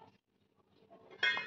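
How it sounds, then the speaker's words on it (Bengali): A lid set down on a cooking pan of fish curry over a medium gas flame, giving a single bright metallic clink after quiet faint handling sounds. "এবার ঢাকা দিয়ে দেবো জিনিসটাকে"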